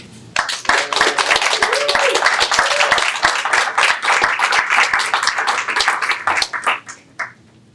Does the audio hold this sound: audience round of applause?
yes